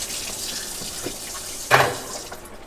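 Water trickles and splashes from a leak in a van conversion's pump-fed water system, with soft dribbles building to a sudden louder spurt and splash before fading back down.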